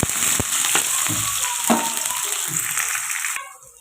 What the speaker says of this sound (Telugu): ఉల్లిపాయలు ఇలా ఫ్రై అవుతున్నాయి కదండి